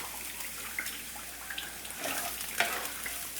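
Shallots and curry leaves sizzle quietly in a hot pan, a soft continuous hiss broken by a few light stirring scrapes and one sharper clink.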